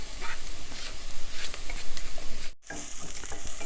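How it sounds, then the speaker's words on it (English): Garlic sautéing in a pan for a low-carb bouillabaisse, with a steady close sizzle and scraping stir strokes throughout and a brief drop to silence near the end. "Now let's add the garlic. Saute that up for about a minute."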